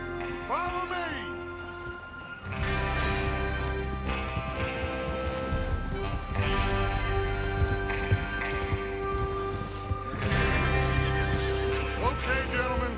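Horses in the Red Dead Redemption 2 video game, ridden out for a train robbery, with whinnies and hoofbeats under a dense, loud game soundtrack and voices throughout.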